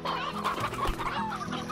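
Chickens cluck and chirp steadily in a farming video game, a dense flock of small hens heard close and continuous with no talking over them.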